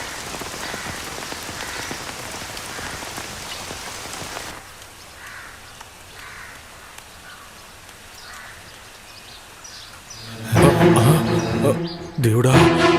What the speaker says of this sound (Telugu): ఇంత పెద్ద వర్షంలో కోనేరు దగ్గర ఎవరున్నారు?